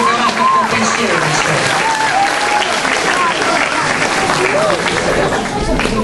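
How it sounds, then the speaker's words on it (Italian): An audience at an awards gathering clapping for a club president, sustained loud applause from many hands that fills the room without pause, with a few voices calling out over it. "vi prego di fare un applauso al presidente Marco Moretti"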